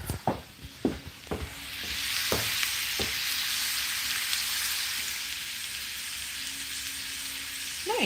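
Food frying in a pan, a loud, even sizzle that swells after a few sharp knocks and clatters at the start and then holds steady.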